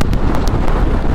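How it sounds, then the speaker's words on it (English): Steady, blustery wind on a morning in Costa Rica buffets the microphone, a continuous low rumbling roar with brief gusty flutters throughout. "it's a super windy morning here in Costa Rica"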